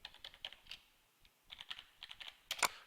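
Login credentials typed on a computer keyboard: quick, light key taps in short irregular clusters with brief pauses, close and quiet, ending in a firmer few strokes.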